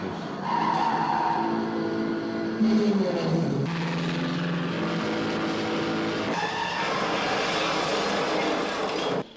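Tires skid and an engine roars during a car chase and crash in a James Bond film, loud and sustained with a sharp shift midway, with no talking over it.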